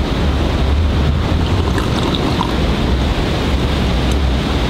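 Wind buffets the microphone outdoors beside a spring river at a camp site, a steady, loud rushing roar with low gusting thumps and no voices.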